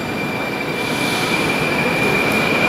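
A Moscow metro train running steadily and loudly, its continuous rumble and rail roar close by with a faint high wheel whine throughout, no talking.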